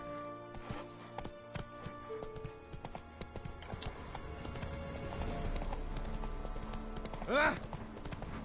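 In The Witcher 3 video game, a horse breaks into a gallop with rapid clip-clopping hoofbeats that speed up and grow heavier, and a short whinny rises near the end; a voice is briefly heard at the start.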